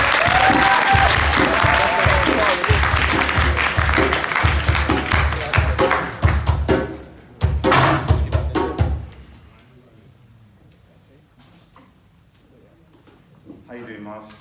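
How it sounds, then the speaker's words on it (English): An audience at a performance event gives a round of applause, with dense clapping for several seconds that thins out into scattered claps before quieter talk takes over. "Can we give Miles a round of applause?"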